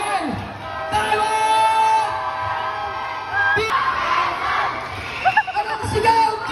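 A crowd at a basketball game in Narra, Palawan shouts and whoops in bursts during the final seconds of play, loud and sustained, with a sharp cheer near the end.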